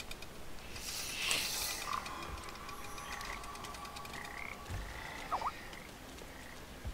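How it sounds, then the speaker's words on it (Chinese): A frog croaks in the video game Papo & Yo, a few short clear croaks over a quiet ambient game backdrop. "哇，青蛙跑走了。"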